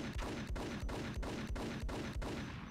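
Max Payne gunfire: steady, evenly spaced shots, about eight in under three seconds, each a sharp low thump with a crack. The shots are fairly quiet and no one speaks over them.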